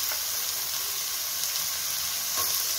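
Carrot, cabbage and beans stir-fry in hot oil with ginger and garlic for chicken fried rice, giving a continuous close sizzle with faint scraping stirs and no talking.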